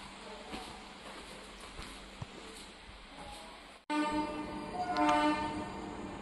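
A Konkan Railway passenger train departs Madgaon Junction in Goa. A low, steady rumble gives way to a sudden jolt and sustained tonal horn-like notes, moderately loud and close.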